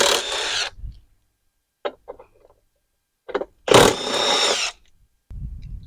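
A power driver or speed tool zipping out number 10 screws from the top cowling of a John Deere LA150 lawn tractor, loud short whirring bursts separated by quiet gaps, with lighter clicks between.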